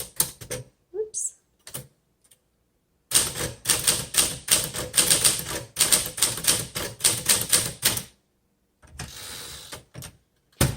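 Rapid bursts of keystrokes from a 1949 Smith Corona Sterling manual typewriter, crisp clacks with carriage mechanism noise in a steady flurry over several seconds, with brief pauses and a few isolated strikes before and after.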